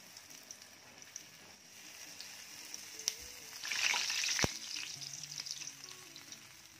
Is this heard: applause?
no